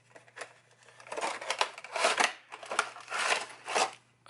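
Plastic packaging of a Mr. Bean Wacky Wobbler bobble-head toy being opened by hand, a series of crinkling, rustling snips and scrapes in irregular bursts, close and moderately quiet, with no talking.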